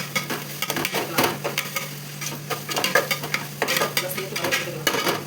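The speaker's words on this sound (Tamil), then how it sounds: "நல்லா சேர்த்து வதக்கி கொடுத்துக்கலாம்." Green chilies, coriander and mint sautéing in a pan for a chicken biryani gravy, with a steady close sizzle and repeated spoon-stirring scrapes against the pan, no voices.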